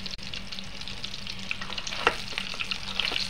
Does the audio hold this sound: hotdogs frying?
yes